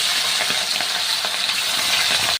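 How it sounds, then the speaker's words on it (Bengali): Hilsa fish frying in oil in a wok, a steady, dense sizzle with faint crackles throughout, close and fairly loud, no voices. "মাছগুলো আমি এখন ভাজা করে নেব।"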